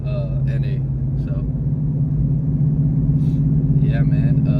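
A Coyote V8 swapped into an SN95 Mustang idles warm early in the morning with a steady, loud low rumble and a lumpy, pulsing cadence, while someone talks over it close by.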